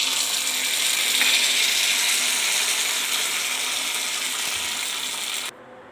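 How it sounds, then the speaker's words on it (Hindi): Tempering spices, including red chillies, sizzle in hot oil for coconut chutney, giving a loud, steady frying hiss close up that cuts off abruptly just before the end. "तड़का लगाते हैं।"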